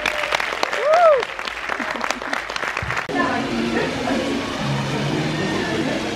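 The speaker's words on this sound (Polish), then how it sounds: "Brawa!" An audience at a live influencer event in Wrocław applauds with brisk, dense clapping for about three seconds, with a voice calling out over it before the room settles into a murmuring hum.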